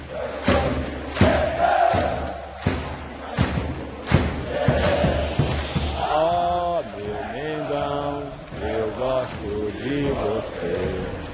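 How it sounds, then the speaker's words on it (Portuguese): A Flamengo football crowd in a stadium chants and sings in unison, loud and rhythmic, with heavy thumping beats early on and the massed voices swelling into a sustained song. "A torcida então cantou como nunca."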